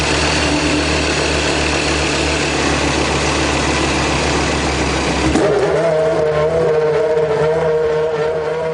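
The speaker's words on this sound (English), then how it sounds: "When the engine starts, it idles at the same speed as the rest of us drive at." A Formula One car engine idles loud and close, a steady layered drone with a high whine, then shifts abruptly to a lower, smoother idle tone partway through; no voices.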